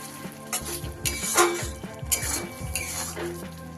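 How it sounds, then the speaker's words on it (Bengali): Chili paneer stirred in a pan after sugar goes in, a spoon scraping and clinking against the metal in short repeated strokes over a soft sizzle, close and without talk. "চিনিটা ভালো করে মিশিয়ে দিলাম।"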